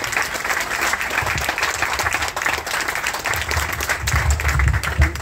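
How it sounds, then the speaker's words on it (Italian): Wedding guests in Vietri sul Mare, Italy, break into sustained, dense applause, a steady wash of many hands clapping close by with crowd murmur underneath, swelling slightly toward the end. "forte applauso a tutti."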